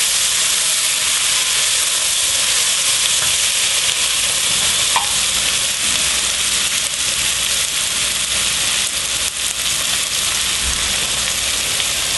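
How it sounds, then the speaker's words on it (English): Chopped shallots sautéing for a beef stroganoff give off a steady, close sizzling hiss with faint stirring scrapes and no one speaking. "we're going to go ahead and put in the shallots. Cook these for about 3 to 4 minutes more"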